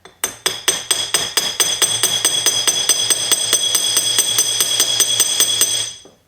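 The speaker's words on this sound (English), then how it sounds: "But I use this little brass and Teflon hammer." A small brass and Teflon hammer strikes rivets on a sterling silver cuff bracelet with 18K gold rivets, about two dozen close, bright, ringing taps in a steady quick rhythm, loud and alone.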